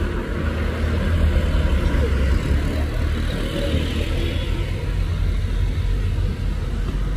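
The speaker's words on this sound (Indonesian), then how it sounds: "Fuso Vector truk tangki bosku." Steady, loud, low rumble from the engine of a Fuso Vector tanker truck, running continuously and close by, with no voices over it.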